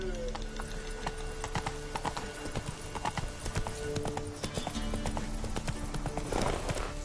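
Roach the horse gallops in The Witcher 3, with steady, close hoofbeats in a fast rhythmic clip-clop that runs the whole time under a faint background bed.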